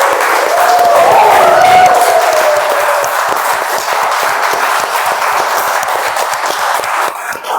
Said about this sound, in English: I want all of you to please applause for Krishna here